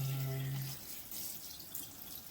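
Wild-crafted sea moss is rinsed under running tap water, a soft, quiet splash and trickle with faint drips after a short low tone at the start.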